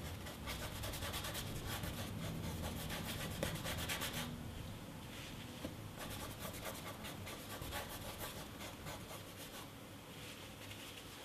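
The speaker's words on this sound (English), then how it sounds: "Scrubbing this in and looking for that nice ragged edge." Stiff brush scrubbing oil paint onto canvas with steady, rapid strokes, close and fairly loud throughout, painting wet-on-wet flowers with ragged edges; no talking.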